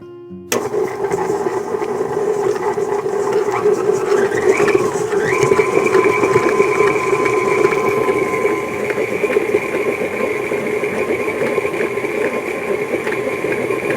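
An electric mixer creams butter with almond extract for shortbread cookie dough, starting abruptly with a steady, loud mechanical whir and hum that runs on without pause, and nobody speaks.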